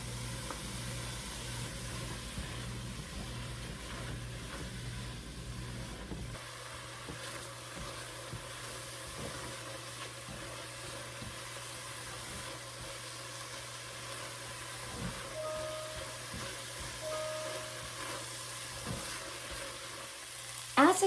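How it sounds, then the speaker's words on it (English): Mushrooms sizzle in an oil-free pan for a bolognese sauce, a continuous close frying hiss over a low steady hum, with a scrape of stirring at the very end and no voices. "We are then going to turn it up just a little bit higher, and we're going to get our mushrooms in."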